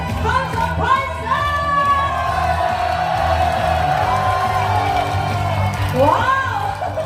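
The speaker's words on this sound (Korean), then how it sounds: "오늘 연습 오신 여러분의 함성 한번 들어보고 가겠습니다." A festival audience at a temple thanksgiving celebration roars with shouts and whoops, loud cheering rising in bursts over a busy background, while a voice also calls out above the crowd.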